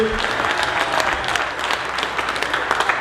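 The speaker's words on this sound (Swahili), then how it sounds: "Makofi ya Kisumu, piga makofi mzuri." Congregation clapping at a cathedral music Sunday service in Kakamega, steady dense applause from a large crowd filling the whole stretch, close and loud without letup.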